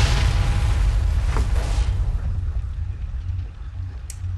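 A tank blowing up in the CryEngine 3 Sandbox game, heard as a loud, sustained low rumbling blast with a crackling burst near the start that slowly fades.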